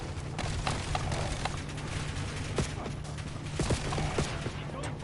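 Rapid gunfire rattles through a Call of Duty Black Ops 7 EndGame match, dense bursts and sharp shots layered over a constant hiss of game ambience, with no talking.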